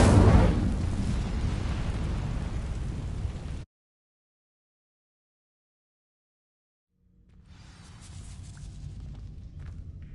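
Incendio fire spell igniting dry vines in Hogwarts Legacy: a loud whooshing burst of flame that roars for a few seconds then cuts off, followed by silence and a fainter crackling fire rising again.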